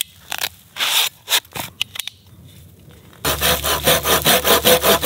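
Short folding-saw strokes on wood with a thick blade, first sparse and hesitant, then a fast, steady rhythm of loud rasping back-and-forth cuts close by.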